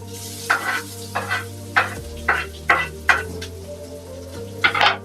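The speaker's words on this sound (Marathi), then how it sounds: "त्याच्यानंतर कांदा लाल लसूण आणि जिरा लाल झालेला आहे तर मी आता त्याच्यामध्ये कांदा सोडते" Onion frying in a pan with browned garlic and cumin sizzles steadily, while a spoon stirs and scrapes the pan in a series of regular strokes, fairly close.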